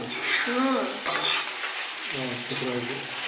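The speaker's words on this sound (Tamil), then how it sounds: "மட்டன் வறுக்கிறேன்" Mutton sizzles and fries steadily in a hot pan while a utensil stirs and scrapes through it in a few bursts, close and continuous with no talking.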